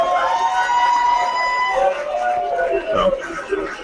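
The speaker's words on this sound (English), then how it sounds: "as you can hear with that crowd response" A pro wrestling crowd cheers and shouts for Marche Rocket as he is introduced, a steady roar under a busy mix of voices and music.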